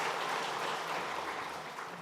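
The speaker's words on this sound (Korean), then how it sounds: "우리 박수로 환영하도록 하겠습니다" A church congregation applauds in welcome during a worship service, a steady, fairly faint wash of clapping from many hands that holds evenly throughout.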